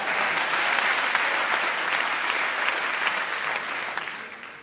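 Sustained applause from a comedy-show crowd, a dense, even roar of clapping hands that fades gently over about four seconds.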